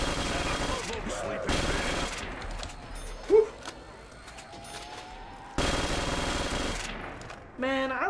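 Bursts of FG-42 automatic rifle fire from a World at War weapon in the Black Ops 3 zombies map Night of the Living Dead, two sustained loud volleys separated by quieter game sounds and a sharp impact.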